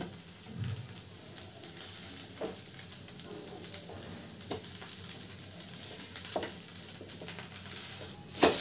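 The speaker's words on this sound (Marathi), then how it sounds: "आता आपली आंबोळी आपण पलटी करूया." A flipped amboli, a Maharashtrian rice pancake, roasts on a hot pan with a low continuous sizzle, punctuated by a few faint scraping taps and a louder clatter at the end.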